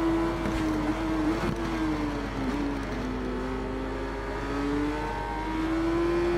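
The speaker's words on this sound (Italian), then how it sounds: "Sentite come è silenziosa sta moto, cioè in confronto alle altre." Motorcycle engine in the Ride 4 racing game, a bike noted as quieter than the others, droning steadily with a wavering pitch that rises and falls slightly, loud and continuous with no talk over it.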